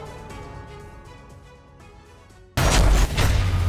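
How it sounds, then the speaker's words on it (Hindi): Artillery shelling in the war in Ukraine's Zaporizhzhia region, Robotyne area: a sudden loud, heavy blast rolls out after a quieter rumbling stretch, close and forceful. "यहाँ बाकी क्षेत्रों से ज्यादा बारूद बरसने लगा है"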